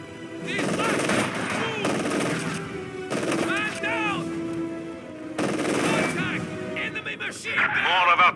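Machine gun fire in the video game Company of Heroes 2: loud, sustained bursts of rapid automatic gunfire in repeated long volleys, with game voices shouting between and over them.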